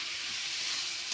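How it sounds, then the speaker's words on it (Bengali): Spice masala for a Bengali tangra fish curry frying in a pan, giving a steady, close sizzling hiss throughout with no talking. "মশলাটা দিয়ে দিলাম, মশলাটা একটু কষে নেবো আমি"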